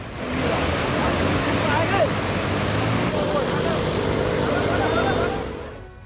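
Rushing, swollen rainwater stream after heavy rain in Rudraprayag, Uttarakhand, a loud, steady broadband roar of fast-flowing water that holds constant for about five seconds before fading out at the end.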